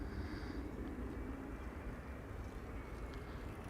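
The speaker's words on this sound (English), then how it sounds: "This is KLM flight 1414 arriving from Rennes." KLM passenger aircraft arriving at Amsterdam Schiphol Airport, a faint, steady distant engine roar and broadband rush that holds at an even level over a few seconds, with no voices.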